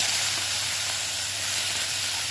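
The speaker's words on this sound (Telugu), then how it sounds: "అదే మూకుడులో కొంచెం నూనె వదిలేసి చూడండి ఈ తొక్కలు వేసేసుకోవాలి" Ridge gourd peels fry in a little oil in a pan, giving a continuous soft sizzling hiss, close and steady from start to finish with no talk.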